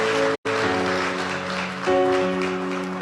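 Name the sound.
congregation applauding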